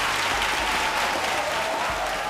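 An audience at a school charity event applauding steadily, a dense, loud wash of clapping from many hands throughout.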